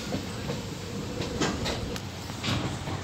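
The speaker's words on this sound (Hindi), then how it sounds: "रेलवे का जो कैंची पर जो ट्रेन जब चलती है उसका जो एक आवाज़ निकलता है" Vaishali Superfast Express train rolling over railway points, a steady broadband rumble of wheels and wagons with faint rhythmic clicks and knocks rising now and then, heard close and continuous with no talking.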